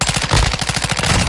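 Loud, rapid machine gun fire bursts from an automatic weapon in a military shooter video game, rattling shots in a fast, even rhythm close up, with no talk over it.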